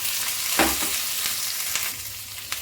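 Cashews and ginger frying with curry leaves in a pan, a bright continuous sizzle with a few sharp stirring clicks, close and loud, with no voice.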